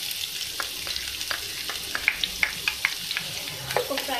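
Two medium chopped onions fry in oil in a pan, giving a soft steady sizzle with scattered clicks and scrapes of stirring, close and moderately loud, no talking.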